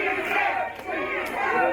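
A wrestling crowd roars and cheers inside an arena during a championship match. The sound is a loud, dense wall of many shouting voices, steady and continuous throughout.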